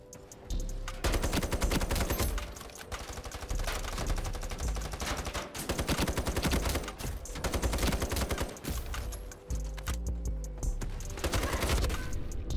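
Sustained automatic fire from an SG553 rifle in the shooter game Ironsight, loud and close, rattling in long bursts with brief pauses between them.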